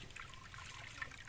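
Liquid asphalt emulsion is splashed over clay roof tiles as they are coated, giving a soft, faint, continuous trickle with a few small splashes and no voices.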